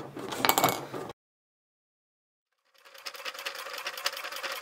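A sewing machine stitches transparent PVC vinyl fabric into a pouch, sewing slowly in two bursts of rapid mechanical clatter split by a pause of silence of about a second and a half.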